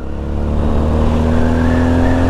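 A Mash X-R single-cylinder motorcycle engine running steadily under load, a loud, close, continuous thrumming drone with a slight rise in pitch, heard alone without talk.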